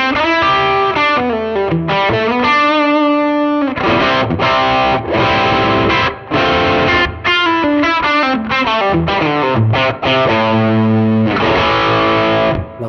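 Distorted electric guitar through a Mooer GE250 multi-effects unit, using an 808 overdrive with a US Twist amp model, riffing with a crunchy tone and slight chorus shimmer, playing chords and bends continuously and loudly, no voices.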